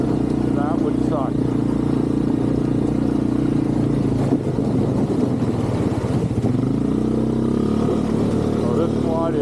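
A semi-automatic quad ATV engine runs steadily at close range, with a sustained low mechanical drone and mild rises in pitch, partly masked by someone talking over it.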